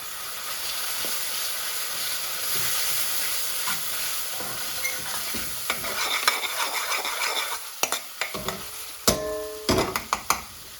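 Tomato paste and spices frying in a pan for a garlic chicken tikka chilli bhuna, with a steady sizzle and repeated scraping stirs that grow into sharper clinks of the utensil against the pan toward the end.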